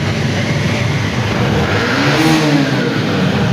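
A used motorcycle at a bike dealer, its engine revving in one steady, loud roar that holds close by for a few seconds with no talk over it.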